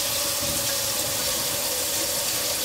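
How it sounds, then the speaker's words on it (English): Tap water runs steadily into a kitchen sink while a silicone baking mat is being cleaned, giving a constant close hiss with no speech over it. "so I'm gonna run the water."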